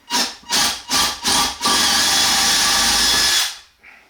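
Cordless power drill boring out metal rivets, with four short bursts of whirring followed by one longer sustained grind that then stops, loud and close.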